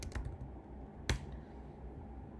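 Quiet typing on a computer keyboard, a few light scattered key taps with one sharper clack partway through, close but faint.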